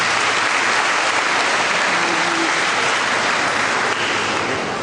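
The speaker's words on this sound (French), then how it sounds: "Je vous invite à les applaudir chaleureusement," An audience at a December ceremony breaks into warm, sustained applause, a dense and steady wash of clapping that fills the whole stretch without speech.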